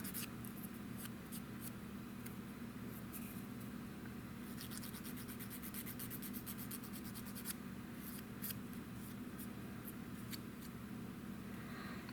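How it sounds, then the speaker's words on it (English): A thin, soft plastic landing gear part from a Kitty Hawk Su-17 model kit is sanded at an angle, giving quiet, close, steady rubbing strokes with no talking. "I'm sanding at the angle here to"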